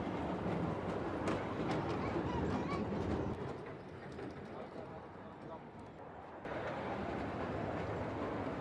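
A small solar-park ride train rolls along with a steady, continuous rumble and rattle that eases for a few seconds mid-ride before picking up again, with background voices and bird calls.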